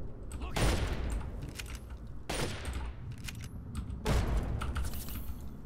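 Gunfire in Fallout 3 combat, heavy bursts of shots that return three times at fairly regular intervals over a busy game soundscape, close and loud.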